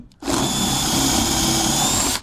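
A power drill runs steadily for about two seconds as it bores into a wooden lamp part at a workbench. The whine is loud and close and starts and stops abruptly.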